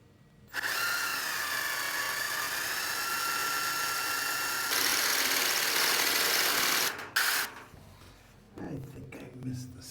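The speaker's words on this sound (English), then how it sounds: "So I'm going to drill a weep hole" A power drill whines loudly and steadily for several seconds, pitch shifting slightly as it bores a weep hole into a wall, then cuts out; a voice is heard briefly afterward.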